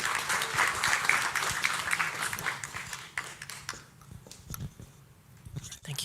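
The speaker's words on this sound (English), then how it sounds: "So give Giselle a big round of applause and she'll give us a welcome." A meeting-room audience applauds to welcome a speaker, a dense burst of clapping that fades away after about three seconds, leaving sparse claps and room noise.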